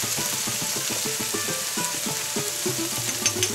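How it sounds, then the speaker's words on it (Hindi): Onion frying in hot oil for an Odia janhi aalu posta curry, a steady bright sizzle with faint clinks of a spoon stirring, close and continuous, while a low melodic tone runs beneath. "पुणी टिके पियाज को फ्राए कर 2 ରୁ 3 मिनट पियाज भाजी"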